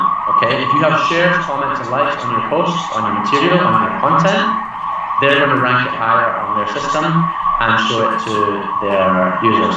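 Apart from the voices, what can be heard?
siren of an emergency vehicle outside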